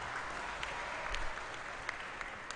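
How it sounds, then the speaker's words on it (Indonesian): An audience at a student orientation claps in a soft, distant-sounding round of applause, steady and continuous with a few sharper individual claps standing out. "Oke, tepuk tangan untuk teman kita."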